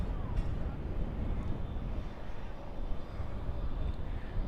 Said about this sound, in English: And there's that British Airways A380.